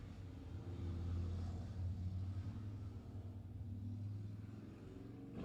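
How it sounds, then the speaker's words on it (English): Motorcycle passing at a distance outdoors during a hunt, a low rumbling engine that swells and fades gently over several seconds, faint and alone. "Biker going by."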